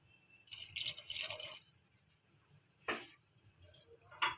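Water is poured into a pot of potatoes for a potato pakora curry, with two or three short splashing pours and drips separated by pauses, close and fairly quiet, with no voices.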